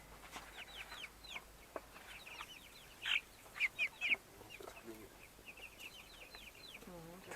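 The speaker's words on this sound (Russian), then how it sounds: "Петух, наверное," A rooster in a village vegetable garden in Altai Krai, Siberia, gives soft scattered clucks, then a cluster of several louder sharp calls, then more quiet clucking, with a brief voice near the end.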